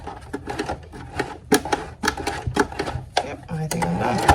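A home sewing machine stitches a lap zipper in short rapid bursts of whirring needle clatter, stopping and starting, close up, with a voice talking over parts of it.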